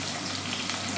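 Mustard seeds and chillies frying in hot oil for a South Indian meal maker gravy, a loud, steady, close-up sizzle with no talking.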